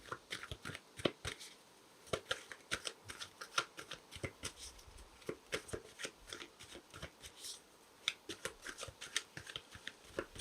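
Tarot cards are shuffled and drawn by hand in a steady run of crisp riffles and slaps, close and fairly quiet, continuing without pause.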